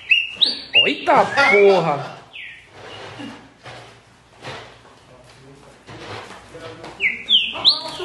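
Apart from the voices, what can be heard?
green-winged saltator singing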